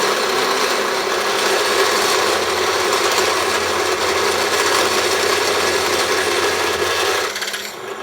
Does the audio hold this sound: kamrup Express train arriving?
no